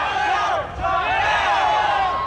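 A crowd at a ninja-warrior-style obstacle course event shouts and cheers loudly and continuously, a dense roar of many overlapping voices calling out to a competitor, with a brief dip partway through.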